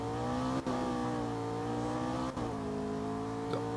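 A McLaren 12C Spider drives in Need for Speed Rivals, its engine holding a steady, loud drone with brief dips as it shifts gears, and no voices over it.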